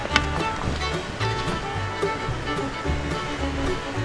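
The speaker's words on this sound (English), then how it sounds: "And that falls has got to come down all that rock." A waterfall drops down steep rock walls into a river at its base, a steady, loud, broadband rush with continuous churning and no pauses.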